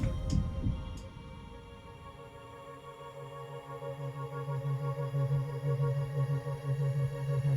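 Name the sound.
heartbeat sound effect in a song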